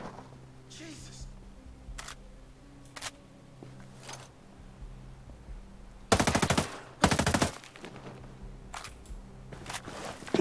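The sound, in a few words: turret machine gun firing in a video game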